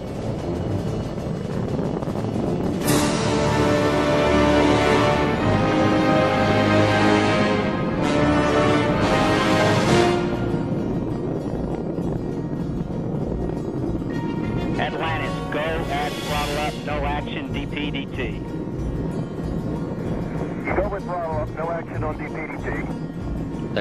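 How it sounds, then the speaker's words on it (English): Space Shuttle Atlantis climbs during launch with a continuous low rumbling engine roar, while radio-style commentary and crackly communications run over it the whole time. "Engines now revving up, standing by for the throttle up call."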